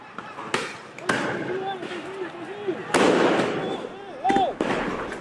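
Police firing tear gas at a street protest in Kwitang, Jakarta: several sharp bangs at irregular intervals, some close and loud, under a reporter speaking.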